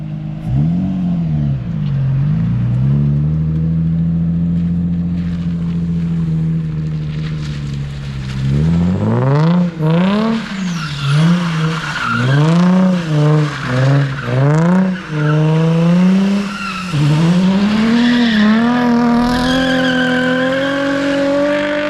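A low-horsepower, heavy drift car with a welded diff revs hard and squeals its tires while sliding on dry pavement, loud and close, with engine pitch rising and falling through repeated bursts and tire screech layered on top.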